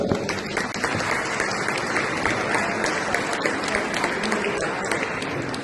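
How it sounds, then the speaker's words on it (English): Dense, sustained applause fills a conference forum hall as a large audience claps steadily for several seconds, loud and even throughout with no break. "Please give a big round of applause just for that."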